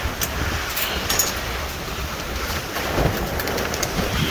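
Steady rain pours down in strong, gusting wind, a continuous broadband wash of drops and blowing air that holds an even, fairly loud level throughout with no voices.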